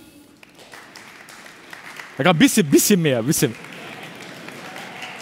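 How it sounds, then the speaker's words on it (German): Audience at a science slam gives a brief test round of clapping, a burst of a couple of seconds standing out between stretches of someone speaking German. "Wie würde man für eine 1 klatschen?"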